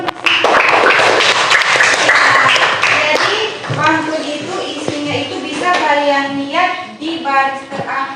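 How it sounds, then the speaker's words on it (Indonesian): Schoolchildren clapping in an Indonesian language classroom lesson: a dense, lively burst of applause for about three seconds that fades into voices talking nearby. "Tepuk tangan dulu untuk Sisi."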